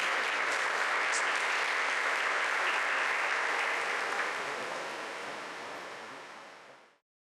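An audience at a summer course talk in Bengaluru applauds a speaker as he is welcomed, with dense, steady clapping that holds for several seconds, then thins and fades out.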